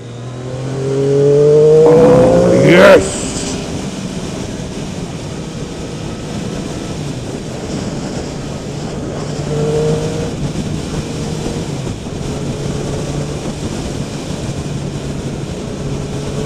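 A Triumph Daytona 675 motorcycle on a test ride revs up hard in a rising whine, then drops back to a steady engine drone with wind noise that carries on for the rest of the stretch.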